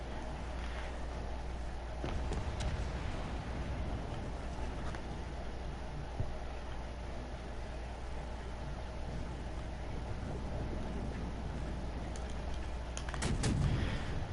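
Booming naval cannon fire from a warship in the World of Warships video game, several heavy low thuds scattered through a steady rumbling background of engine and sea noise, with a louder burst near the end.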